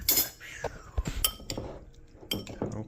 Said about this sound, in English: and then we're going to stir it up.